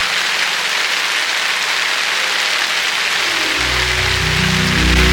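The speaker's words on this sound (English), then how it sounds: "and then it started raining again." Steady rain falls in Alleppey, Kerala, making a dense, even hiss. A low engine rumble joins in for the last couple of seconds.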